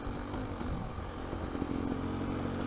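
A Beta motorcycle engine runs steadily after a new spark plug, a low buzzing drone heard close and moderately loud with light mechanical clatter, no speech.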